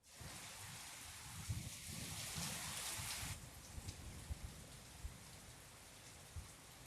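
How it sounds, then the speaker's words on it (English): Steady rain falls throughout, a dense hiss with scattered heavier drops and a brief brighter rush early on; no clear thunder stands out. "You can hear the rain here."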